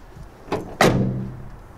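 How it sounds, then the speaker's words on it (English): A van door lock is worked with a key and the door pulled open, giving a soft click near 0.5 s and then a louder metallic clunk and latch release near 0.8 s, close by with no talking. "I put my key in, turn it, pull it out, take off the lock, open up my door."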